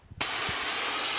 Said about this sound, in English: I'm going to spray side to side to create a big wall of mist that bear has to run through